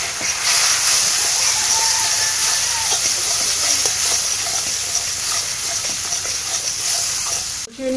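Chilli and turmeric powder spices frying and being stirred in a hot pan, a close, steady sizzle and hiss with faint scraping of the utensil running throughout, without voices.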